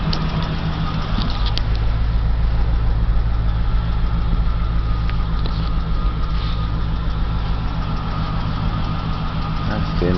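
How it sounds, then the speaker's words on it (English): A 1989 Dodge Ram 4x4 pickup with a 318 engine idles close by, a loud, steady low rumble that holds unchanged throughout. "Motor runs great."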